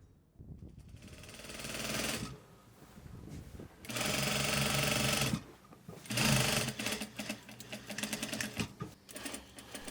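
Sewing machine stitching clothes in bursts, with three loud sustained runs separated by short pauses and then quicker, choppier stitching, close and alone.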